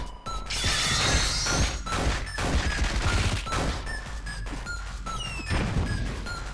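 A rapid barrage of heavy punches and crashing impacts from a machine gun fist attack in the game LISA The Joyful, dense and loud, with chiming game tones scattered throughout.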